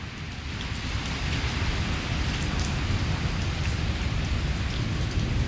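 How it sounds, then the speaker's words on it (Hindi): Torrential rain pours steadily in Islamabad as a loud, dense roar, with low rumbling that suggests nearby thunder underneath. "अब आवाज़ सुनिएगा जी, आसमानी बिजली बिल्कुल मेरे करीब आई है जी, थंडर की आवाज़ सुनिएगा।"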